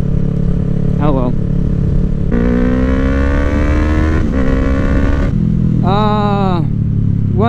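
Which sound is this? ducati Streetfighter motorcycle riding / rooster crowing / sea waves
ducati Streetfighter motorcycle riding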